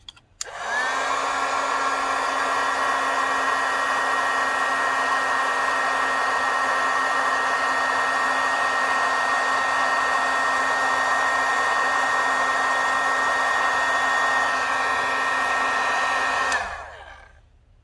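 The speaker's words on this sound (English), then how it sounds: "And now we're going to heat set it." A heat tool sets stamped ink with a steady, loud, hair-dryer-like whir that runs evenly for about sixteen seconds, then cuts off.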